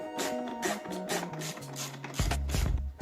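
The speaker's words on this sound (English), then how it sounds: "I will unscrew the 4 screws on the plastic part under the dust container." Screws are undone on the plastic part beneath the dust container of a Bosch Serie 4 vacuum cleaner, with close, quick whirring and ratcheting bursts stepping in pitch, ending in a louder grinding run.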